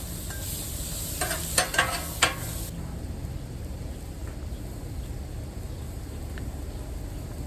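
Fajita meat sizzles on a Blackstone griddle, with a few sharp scraping tosses early on, then a steady hiss that carries on to the end with no talking.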